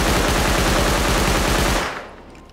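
Loud, close automatic gunfire from the game Rust, a fast even stream of shots lasting nearly two seconds before cutting off into a short quiet tail.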